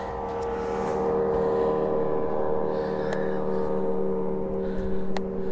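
A bass boat engine drones steadily as it speeds past nearby, a low sustained hum with a few faint clicks and knocks over it.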